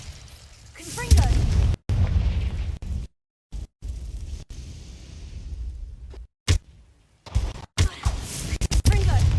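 Confringo blasting spell explosions in the video game Hogwarts Legacy: several loud booming blasts with crackling bursts, broken up by abrupt silent gaps, and a voice calling out among them.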